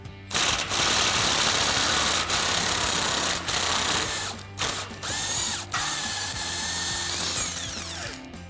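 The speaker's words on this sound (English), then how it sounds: "We'll just get our 21 millimeter socket on the front and remove our bolt" A 21 mm socket on a ratchet or power tool removes a sway bar bolt on a Jeep Gladiator JT during a suspension lift install, with a loud, steady mechanical whirring and ratcheting that runs almost continuously, pausing briefly a few times.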